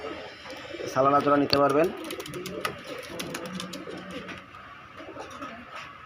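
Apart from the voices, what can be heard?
pigeons cooing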